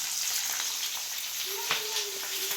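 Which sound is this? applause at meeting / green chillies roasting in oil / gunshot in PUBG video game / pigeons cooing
green chillies roasting in oil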